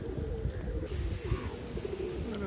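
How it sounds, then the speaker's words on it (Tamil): Karna pura high-flyer pigeons coo softly in a low, repeated murmur, fairly faint and close, with faint chirps and background ambience and no talk. "மேலே ஒரு 5 புறா பறக்கும்."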